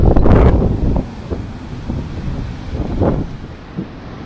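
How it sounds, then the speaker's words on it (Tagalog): Strong sea waves and gusting wind during Typhoon Dante, heard out on the water. Heavy wind buffets the microphone loudly at first, then a steady rough roar continues with faint surges of surf underneath. "Sobrang lakas talaga ng alon dahil sa bagyo."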